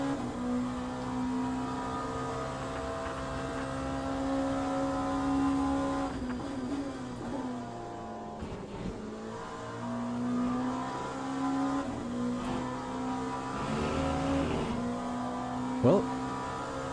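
A race car in the iRacing video game lapping Sebring, its engine droning and shifting pitch as it accelerates and slows, with a voice talking over it.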